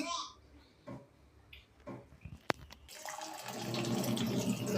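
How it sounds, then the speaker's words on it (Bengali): Sago pearls are washed in water, starting with faint clinks and speech, then a rising wash of splashing and running water that fills the last couple of seconds, moderately close. "তো সাবুটা ধুয়ে নিই দেখুন।"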